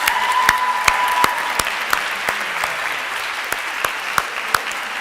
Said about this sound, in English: We need to give one grand applause for the school, for all the people who made this tournament possible.